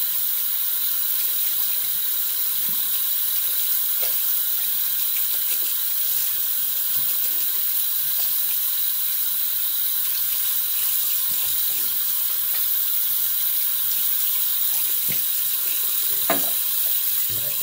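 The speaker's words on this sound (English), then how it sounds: "Let me rinse this off now." Tap water runs steadily into a sink as a knife is rinsed off under it, a constant close hiss with a few faint clinks, and no talking.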